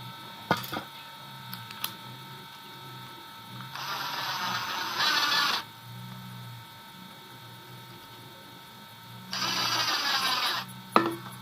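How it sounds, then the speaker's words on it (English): A screwdriver drives plasterboard screws into a board made from scraps: two bursts of whirring, buzzing driving a couple of seconds each, with light clicks and handling knocks between them, close and fairly quiet. "And screw them into place"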